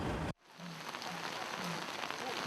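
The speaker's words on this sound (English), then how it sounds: "Strong monsoon rain isn't stopping these residents in this Saemaul pilot village from constructing a drainage system" Heavy monsoon rain falls in a Myanmar village, a dense, steady patter and hiss that starts abruptly after a brief cut and continues evenly at moderate level.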